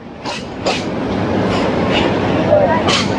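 A passenger train standing at Bhairab Bazar Junction station in Bangladesh, heard as a steady rumbling hum with several brief clanks and metallic knocks, and a faint squeal near the end.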